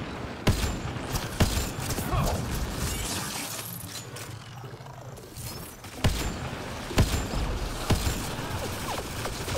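Gunfire in the video game Mass Effect Andromeda, a dense run of sharp shots and bursts over a rumbling combat bed, with several louder impacts standing out.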